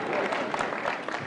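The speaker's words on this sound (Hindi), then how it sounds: "अरे भाई लालटेन के नाम पर ताली बजा दीजिए" Crowd clapping at a political rally, a dense steady wash of applause with voices mixed in, continuous and fairly loud.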